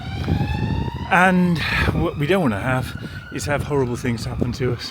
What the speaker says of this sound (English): And as you can hear in the background, that's a siren going.